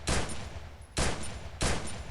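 MP40 gunfire in the Free Fire video game rips out in three short, evenly spaced automatic bursts, each a loud, sharp rattle that drops off quickly.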